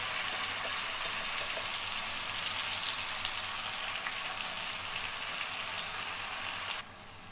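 A ground tomato and coconut paste for drumstick tomato rasam fries in a hot pan, giving a loud, dense, steady sizzle up close that drops away sharply near the end, with no talking.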